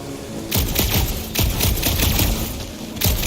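Rapid gunfire bursts in the video game Marvel's Guardians of the Galaxy, loud, dense rattling volleys in several close bursts with brief pauses between them.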